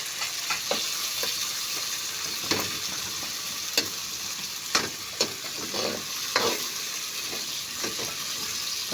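Tomatoes and cabbage sautéing in a home-kitchen pan, with a steady soft sizzle and scattered scraping stirs and clinks from a utensil against the pan, no talking.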